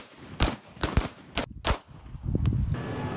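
Gunfire rings out at a police firing range in Faisalabad: several sharp, loud shots in an irregular sequence, some in quick pairs, followed by a rumbling tail of range noise.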